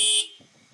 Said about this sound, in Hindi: हॉर्न सुनी छी हॉर्न